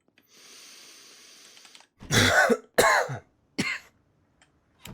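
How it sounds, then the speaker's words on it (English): Close to the microphone, someone coughs hard three times, two loud rasping bursts followed by a smaller one, after a faint hiss. "Just coughing into the microphone"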